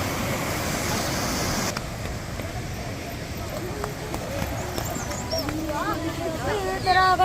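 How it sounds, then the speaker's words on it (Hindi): Waterfall with clear water at Chauras in Himachal, heard as a constant broadband rush of falling water that runs the whole time beneath someone talking. "ये है जो झरना, देखिए बिल्कुल साफ निर्मल जल है"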